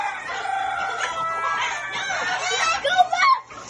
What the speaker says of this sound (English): And these are the other chickens.